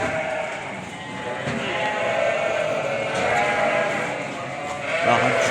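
A flock of fattening lambs bleats continuously at once, a dense chorus close by with no pauses.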